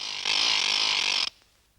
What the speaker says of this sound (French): j'ai déclenché le mécanisme d'ouverture